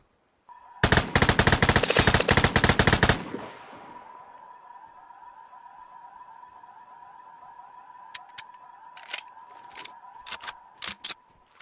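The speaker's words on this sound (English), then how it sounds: "I'm getting shot at" Rapid automatic gunfire rattles loudly for about two seconds in a shooter game, then trails into a ringing tone with scattered distant single shots afterward.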